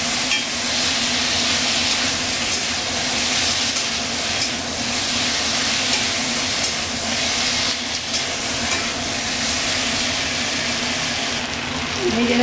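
Steady, dense sizzling of food frying in a pan with tomato sauce and soy sauce, a continuous close hiss with faint scraping throughout and no pauses.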